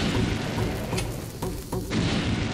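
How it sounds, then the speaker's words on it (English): A chain of bomb blasts from Link's Awakening, set off by a single sword swing in the Key Cavern dungeon, gives dense rumbling booms and pops layered over a continuous game soundtrack, with a brief dip before the noise swells again. "Wow, talk about a chain reaction! I only had to swing my sword once and they all exploded."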